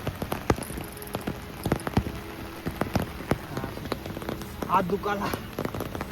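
Heavy rain pattering close on surfaces during outdoor fishing for mrigal fish, with irregular loud drops throughout and a person speaking briefly over it.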